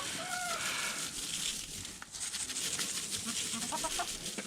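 Chickens clucking and calling close by while feed with soybean is mixed, a busy, noisy scratching and rustling bed of sound with a short high call near the start and scattered clucks throughout.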